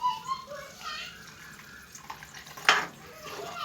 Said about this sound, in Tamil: இப்போ கொஞ்சமாக நம்ம தண்ணி ஆட் பண்ணிக்கலாம்